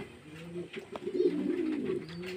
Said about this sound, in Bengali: ভিতরে পায়রা ছটফট করছে জল খাওয়ার জন্য